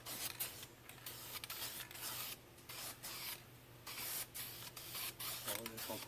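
A spray paint can laying a light coat on a work truck, with hissing bursts of varying length separated by short pauses while someone talks.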